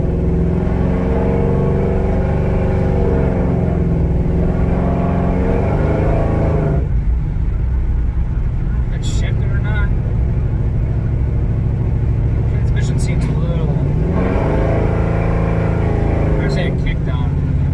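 The engine of a restored car, long off the road and running rich, rumbles loud and close, revving up and settling back as it shifts through its gears, with someone talking over it at times.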